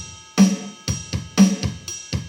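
GarageBand's Big Hair Drum Set playing a drum loop beat: a steady rock pattern of punchy kicks and snare hits with a ringing cymbal wash, heard alone and fairly close.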